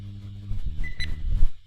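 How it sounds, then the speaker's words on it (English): A short camera shutter sound effect, a crisp click from a photo booth program built with a Kinect, heard once up close after a brief low tone. "a short beep and this camera shutter sound"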